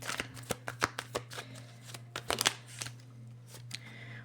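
Tarot cards being handled and shuffled, a run of crisp, uneven card slaps and riffles up close over a steady low hum, with no voices.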